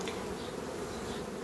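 Honey bees swarm around a hive under attack from robbing bees, making a faint, continuous buzzing hum that holds steady throughout, with no voices.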